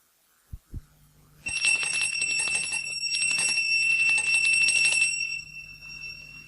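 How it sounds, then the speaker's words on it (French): An electric doorbell in a 1965 French radio play rings with a long, vigorous metallic buzz lasting about four seconds, after two soft knocks. "La vigueur de ce coup de sonnette a quelque chose de rassurant."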